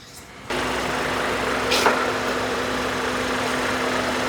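A 2021 Kia diesel engine idles steadily after a sudden start, a constant close hum with a faint whine and no voices.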